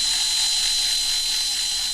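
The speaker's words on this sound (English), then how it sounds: "get this front one drilled out" A small drill bores out a worn rivet on a Corgi 313 Mk3 Ford Cortina GXL diecast model car, giving a steady, close, high-pitched whine that holds without pause and with no talking.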